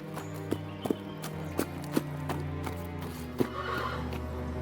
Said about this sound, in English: he opened the gate, and dear old Ginger trotted in